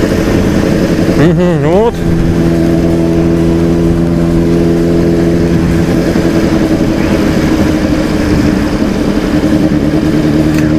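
A motorcycle engine rides through the city streets of Syzran, Russia, crossing railway tracks. A sharp rev climbs and falls early on, then the engine holds a steady droning hum close by, with a brief murmured voice.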